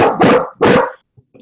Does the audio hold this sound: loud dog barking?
yes